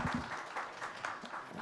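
A panel audience at an EV after-sales service session gives a round of applause, with soft, steady clapping heard from a distance.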